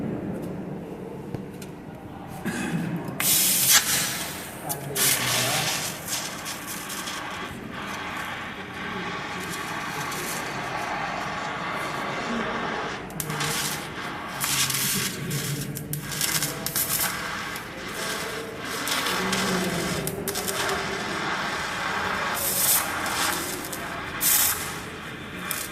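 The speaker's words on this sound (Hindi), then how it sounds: "तो ये मैंने आपको आर्क बना के दिखाई।" A TIG (GTAW) welding arc runs continuously as a steady crackling hiss, with rough bursts and fluctuations throughout and no speech over it.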